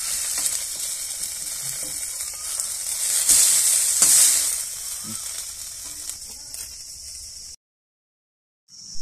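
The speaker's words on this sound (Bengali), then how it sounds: "দেখো আবারও একটা এইভাবে আমি ভেজে নেব।" Potato snacks sizzle steadily in hot oil, with a louder hissing surge midway before the frying noise thins out and briefly drops to silence.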